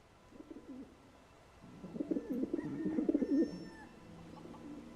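A pigeon in a video game coos loudly in a rolling, throaty burst that swells over a couple of seconds and then fades, after a softer call just before it.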